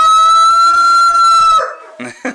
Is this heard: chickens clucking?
yes